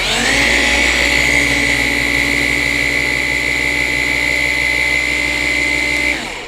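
A car polisher runs at its third speed setting with a loud, steady whine and motor hum that holds constant and close for about six seconds, then winds down, with no talking.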